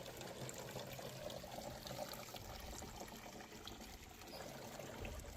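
Water trickles and splashes steadily from a stone garden fountain with LED lights, a continuous close, even patter with no voices.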